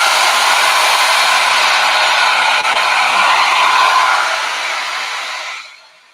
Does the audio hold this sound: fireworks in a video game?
no